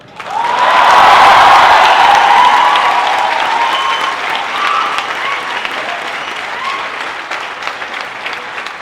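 An audience at a Gujarati literary event breaks into loud, dense applause that swells quickly, holds strong for a few seconds, then gradually thins and fades.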